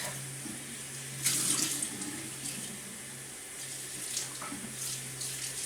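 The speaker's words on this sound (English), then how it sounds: "So I'm going to get the water ready, get the wig damp." A tap runs steadily into a sink to dampen a synthetic wig, a continuous close water stream with a brief louder splash early on and faint handling noises, no talking.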